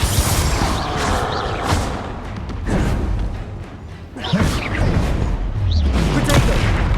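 The Confringo fire spell is cast in the video game Hogwarts Legacy on PS4 during a fight, with loud crackling bursts and booming impacts amid a dense, chaotic battle soundscape and a voice speaking over it.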